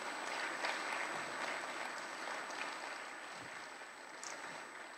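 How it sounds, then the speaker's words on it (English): Audience applause at a Christmas music night, a steady, fairly distant wash of clapping that holds evenly for several seconds and fades slightly toward the end. "Would you give them a round of applause?"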